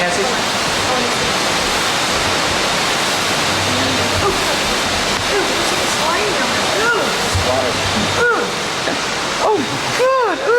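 Rushing river water in Puerto Rico fills the scene with a steady, loud broadband roar, while voices talk intermittently over it.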